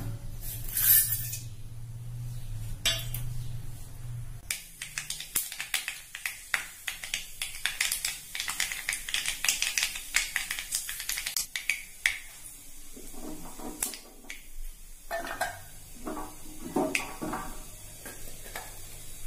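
Mustard and fenugreek seeds crackle and pop rapidly in hot oil, a dense run of sharp sputters that thins out toward the end.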